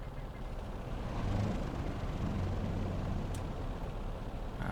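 A P-38 Lightning's right engine running in Microsoft Flight Simulator, a loud steady droning rumble with a low sustained tone, continuous throughout and alone.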